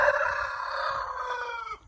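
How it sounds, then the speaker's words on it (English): A rooster in a backyard flock in the Philippines crows once in a long, strained call that trails off. Faint clucks and rustling from other chickens sit underneath, and no one speaks. "But these are the chickens, the Kabirs."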